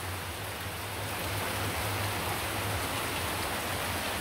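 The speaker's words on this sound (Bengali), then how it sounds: "তো প্রচুর বৃষ্টি নামছে" Heavy rain pours down in a steady, dense hiss that stays even and loud throughout, with no voices.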